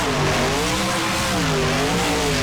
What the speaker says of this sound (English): Sounds like the heat of the engine starting to get to him as it starts.